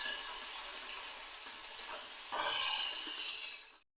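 Spices fry for a hing tarka, giving a steady close sizzle that briefly swells louder partway through before cutting off abruptly.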